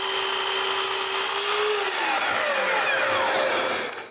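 A power saw cuts two rod-joined wooden workbench pieces to length at once, running with a steady loud whine whose pitch sags and shifts as the blade bites into the wood, then fades out at the end.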